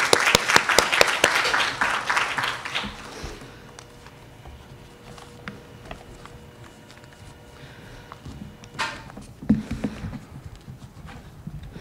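Audience claps to welcome a speaker at a Korean public lecture event, a loud burst of applause that fades after about three seconds into room quiet with a few scattered claps later.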